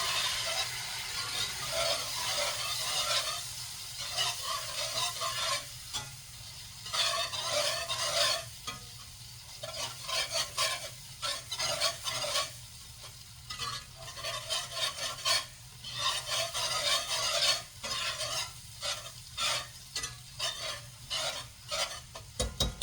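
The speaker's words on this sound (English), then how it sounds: "I'm going to mix it again." Homemade gravy being stirred in a pan with a little water added, a steady scraping and rubbing of utensil against the pan over a soft sizzle, near and continuous with brief pauses, no talking.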